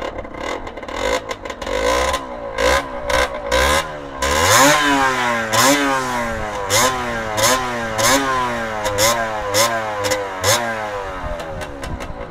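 A Yamaha DT 125R motorcycle engine fires up and revs repeatedly, loud and close, with sharp rising and falling throttle blips in a steady rhythm, no talking over it.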